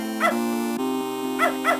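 In the video game Beneath a Steel Sky, a dog yips three times, one short bark early and a quick pair near the end, over a steady musical backing.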